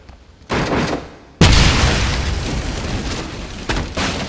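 A loud grenade blast in the World War II shooter Wolfenstein erupts with a sharp boom after a smaller burst, then a long rumbling decay lingers with scattered gunfire-like pops under it.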